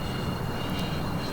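A Freewing F-14 Tomcat radio-controlled jet with twin 80mm electric ducted fans flies by, giving a brief, faint, steady whooshing whine heard alone.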